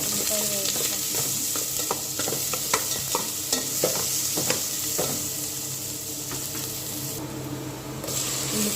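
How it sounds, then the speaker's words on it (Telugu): Onions fry and sizzle in a pan in a home kitchen, with a steady hiss under repeated stirring clicks and scrapes, and a running tap briefly splashes near the end. "ఇంకా ఉల్లిపాయలు వేయించుకుంటున్నాను"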